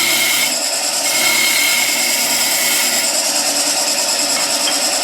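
A skew chisel roughs out a wooden spindle on a lathe, a loud continuous hissing, shearing rush of cutting that stays steady and dense from start to finish.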